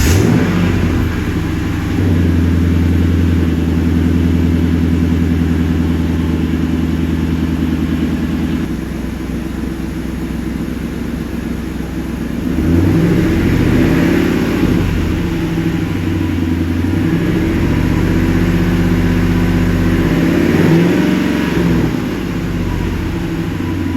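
A Ford Mustang with its stock exhaust idles with a deep, steady rumble, then revs loudly in repeated surges as the engine climbs and falls back, close and with no talking.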